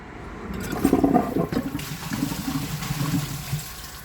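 A Glacier Bay high-efficiency toilet flushes close by in a 2017 test, a rushing gurgle of water building then draining away over a few seconds, with no talking.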